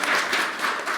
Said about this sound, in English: Just round of applause to you guys.